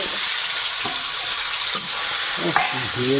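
Prawns fry in ghee in a pan, with a loud, steady sizzle throughout and the scrape and clatter of stirring now and then near the end.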